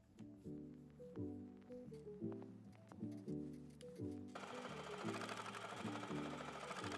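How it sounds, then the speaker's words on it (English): A sewing machine top-stitching around the edge of a fabric napkin, running in rhythmic bursts of rapid mechanical stitching, then one continuous stretch of stitching, close and clear with no voices. "I'm gonna do a top stitch all the way around the edge"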